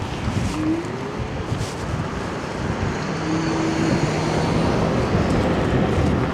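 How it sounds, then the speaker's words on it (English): A strong headwind roars as loud, constant wind buffeting over the microphone while an Ausom L1 electric scooter rides at about 21 mph, with a faint motor whine beneath it. "We're going right into a strong headwind now."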